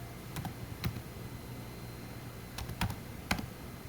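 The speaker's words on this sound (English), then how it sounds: "I'm just typing it out." Faint, scattered keystrokes clicking on a computer keyboard in small irregular bursts against a quiet background.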